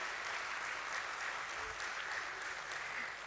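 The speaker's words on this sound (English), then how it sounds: "A huge and a big round of applause for him." A hall audience at a stock exchange listing ceremony claps steadily, a dense even wash of applause holding throughout without a break.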